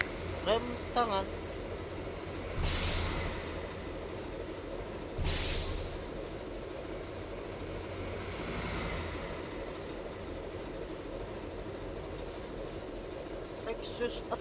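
Two sharp, loud bursts of air hiss from the handbrake of a Hino bus in Bus Simulator Indonesia, a few seconds apart, over a steady idling engine rumble.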